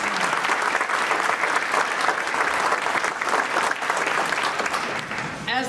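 Audience applause at a governor's visit to a military joint headquarters, dense sustained clapping from a crowd throughout, with a brief voice breaking in at the very end.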